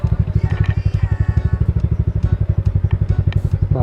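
A motorcycle engine putters loudly and close at a steady rhythmic idle-to-low throttle on a dirt trail, with faint clatter and no voices.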